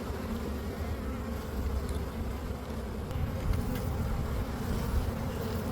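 Honeybees buzzing around an open beehive during an autumn inspection, a dense continuous drone of many insects close to the microphone, steady in level with no voices.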